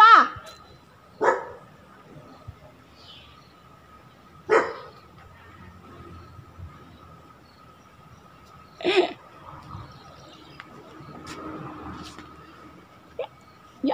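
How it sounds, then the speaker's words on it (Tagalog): A dog barks in a few sharp, separate bursts spread out over a quiet background with a faint steady hum. "Yung aso."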